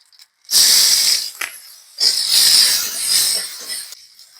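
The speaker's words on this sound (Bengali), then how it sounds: "এখন আমি সরিষা ফোড়ন দিয়ে দেব" Mustard seeds hit hot oil for tempering in a taro-flower and small-shrimp dish, giving three loud hissing sizzle bursts separated by short near-silent pauses.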